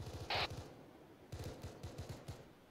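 Gunfire rings out in a military simulation video game as short rapid bursts of distant shots, faint and rhythmic, separated by a pause, with one brief louder hiss near the start.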